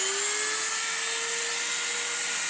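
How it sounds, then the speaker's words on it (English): A Dremel rotary tool runs at high speed, powered from an AimTom 540WH Raptor portable power station. It gives a loud, steady, close whine with a tone that rises slightly, alone with no talking. "I'm gonna turn on the Dremel first."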